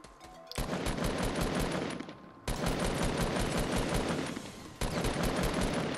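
Automatic weapon fire in the video game Fortnite Battle Royale: loud, dense bursts of rapid shots in three long sustained strings separated by short gaps.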